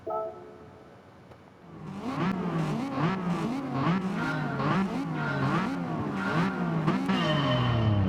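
680-class race cars in a video game pull away at the start of a race at the Nürburgring, a pack of engines revving up loudly through repeated gear shifts, close and continuous with no talk.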